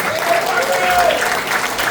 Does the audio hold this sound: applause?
yes